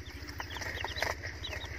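Chickens and small chicks being given water keep up a busy stream of high peeping and soft clucks, close by and fairly steady, with no speech.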